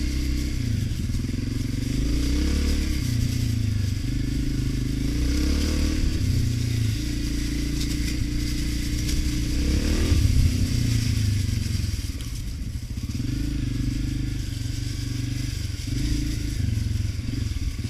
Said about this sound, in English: this one just turned over a couple times and fired right up